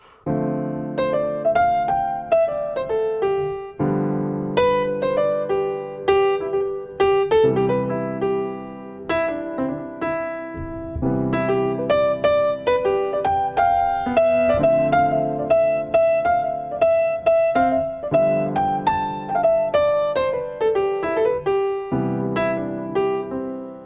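Solo piano plays a relaxed, jazzy improvised passage with rolling chords and a wandering melody, notes ringing and decaying in a loose rhythm.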